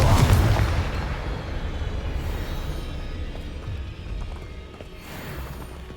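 Fiery spell explosion in the Hogwarts Legacy video game, a loud booming blast at the start that fades into a rumbling, crackling tail lasting several seconds.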